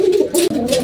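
Pigeons cooing up close, two rounded low coos with a brief gap between them, loud and clear with no talk; birds kept for kolong pigeon racing.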